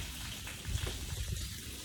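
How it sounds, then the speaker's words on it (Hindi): Water leaks out of a residential society's storage tank, a faint continuous gushing and splashing, low and steady, with no voices. "देखो पानी लीक हो रहा है. सोसाइटी के टैंक में से पानी का लॉस हो रहा है."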